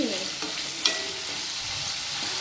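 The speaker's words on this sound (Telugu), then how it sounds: "పొటాటోస్ యాడ్ చేస్తున్నాను. కొంచెం రెడ్గా ఫ్రై చేసి" Potatoes fry in hot oil in a pan for a potato and green peas curry, a continuous close sizzle with a couple of brief scraping stirs, no voices.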